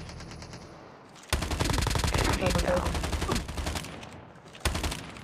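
Call of Duty battle royale gunfire: bursts of rapid automatic shots begin after a quiet second, run for about three seconds, then a short final burst, with a brief spoken remark.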